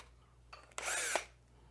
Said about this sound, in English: So you basically just hook it onto your drill.